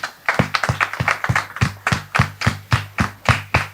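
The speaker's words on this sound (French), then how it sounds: "merci de le recevoir sous vos applaudissements, s'il vous plaît" Sparse rhythmic clapping welcomes a guest onto a stage, sounding like only a few pairs of hands, nearly in unison, beating a steady, evenly spaced pulse of about three or four claps per second, fairly close.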